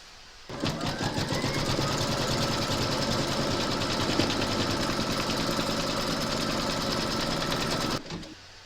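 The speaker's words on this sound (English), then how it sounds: "Pop your hoop into your machine and stitch round number 2" An embroidery machine stitches round two on a hooped crazy-patch notebook cover, a loud, continuous mechanical hum and rapid needle rattle that starts abruptly, holds steady for about seven seconds, then cuts off.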